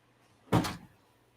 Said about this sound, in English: I heard the door close.